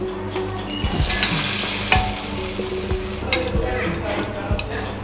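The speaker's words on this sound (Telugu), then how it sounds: "గుడ్లు ఫ్రై చేస్తాను నేను దీనికి, సైడ్కి బాగుంటుంది." Boiled eggs sizzle and fry in an oil-filled pan as a side dish, with steady close crackling and frequent stirring scrapes and clinks of a utensil against the pan; a voice speaks faintly underneath.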